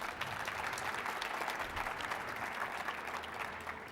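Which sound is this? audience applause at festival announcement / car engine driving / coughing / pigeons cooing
audience applause at festival announcement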